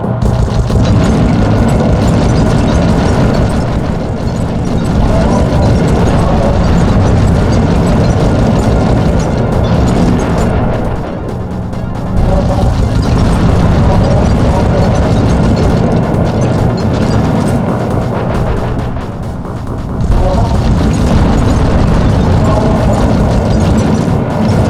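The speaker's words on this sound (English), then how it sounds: "My missiles don't hurt him but seem to create holes in his armor." Clockwerk's missiles exploding in the Sly Cooper game, a loud, sustained roar of booming blasts and mechanical rattling that barely lets up, with brief dips around the middle before the din returns.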